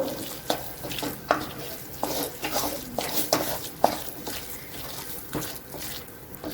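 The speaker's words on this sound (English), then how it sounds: "So keep stirring like this." A spoon stirs a drying lentil mixture in a pan over a low flame, producing steady scraping and clinking strokes in an irregular rhythm. A faint sizzle runs underneath, and there is no talking.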